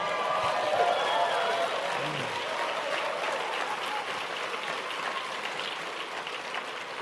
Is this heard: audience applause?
yes